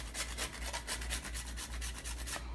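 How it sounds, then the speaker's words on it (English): Fresh nutmeg is grated for a dairy-free Haitian kremas, making a close, rhythmic scraping of quick, even strokes that keeps going without pause and with nobody talking. "I'm also gonna grate in some fresh nutmeg."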